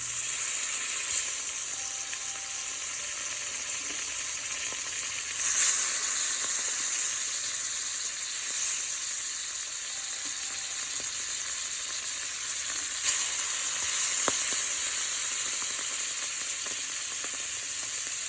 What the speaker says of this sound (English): So when your pan is hot, you're just going to add your liver.